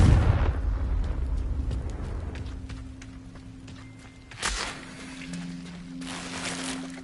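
A Confringo fire blast spell bursts in Hogwarts Legacy with a loud opening explosion that rumbles and fades over several seconds. A second, smaller pop and crackle follow midway.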